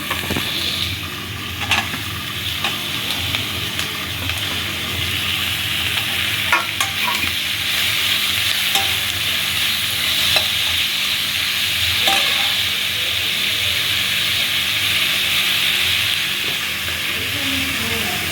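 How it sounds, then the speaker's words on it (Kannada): Tomatoes added to fried onions crackle and sizzle loudly and continuously in a pan for mushroom kadai curry, with steady frying hiss and occasional stirring scrapes and clinks throughout. "ಈಗ ಆನಿಯನ್ ಫ್ರೈ ಆಗಿದೆ, ಟೊಮೊಟೊ ಹಾಕೋಣ."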